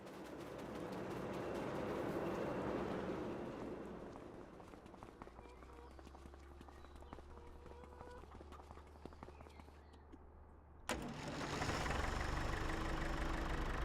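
The tractor engine of a 710 in Farming Simulator 25 runs steadily at a low rumble, swelling then settling, with an abrupt louder shift near the end and faint clicks and thumps throughout.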